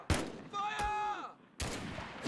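Gunfire from the video game Mud and Blood cracks out in two short bursts, a sharp shot near the start and another later, separated by a held tonal sound in between.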